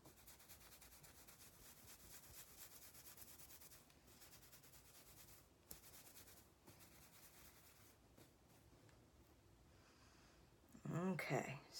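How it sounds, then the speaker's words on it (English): Fingers scratch hair at the root with the head flipped down, a soft continuous rubbing and scraping close to the microphone, briefly interrupted, ending with a louder burst of speech. "Kind of flip my head down and scratch at the root"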